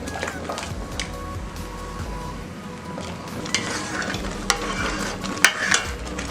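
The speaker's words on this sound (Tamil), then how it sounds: "இப்போ நம்ம என்ன பண்ணலாம், வறுத்து வச்ச ரவையை இதில் போட்டுடலாம்." Roasted semolina is stirred into boiling milk in a pan for gulab jamun, a continuous bubbling, scraping stir with a few sharp clinks of the spoon against the pan.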